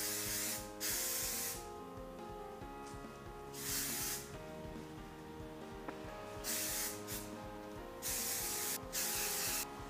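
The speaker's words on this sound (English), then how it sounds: "So I'm just going to give my hair a little bit of spray." Several short hissing bursts of aerosol hairspray, separated by pauses, close by over a faint background hum.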